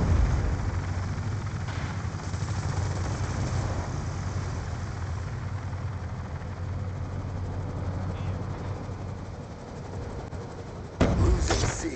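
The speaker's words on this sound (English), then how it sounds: "Friendly stealth chopper inbound." A stealth chopper arriving in a shooter video game, a low steady rotor drone over a rumbling battlefield, followed by a sharp loud thud near the end.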